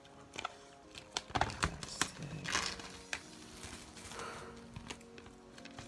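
Sealed packaging on a TWICE 'The Story Begins' mini album being cut open: scattered crinkling, scratching and sharp clicking close by, in bursts with brief pauses.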